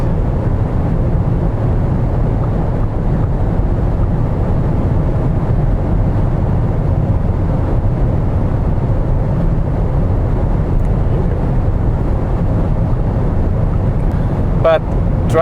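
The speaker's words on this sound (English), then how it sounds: "Let's see if we can drive the top speed for a while." An Audi Q4 e-tron 55 quattro electric car cruising at top speed, a loud, steady roar of road and wind noise throughout, with a voice speaking over it.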